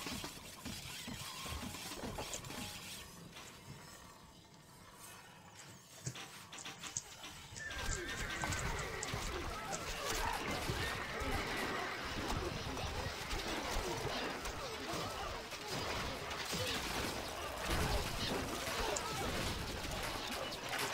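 Horses of horse archers in a Stronghold Crusader battle, a dense continuous clatter of hooves with occasional whinnies amid loud battle noise, persisting throughout and growing busier after the first few seconds.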